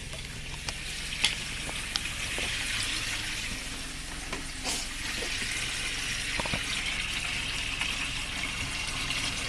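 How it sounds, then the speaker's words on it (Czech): Warm water is poured down a household drain to flush it during drain cleaning, a steady rushing flow of water with a few small knocks and clatters and no speech. "tak to zkusíme prolít vodou"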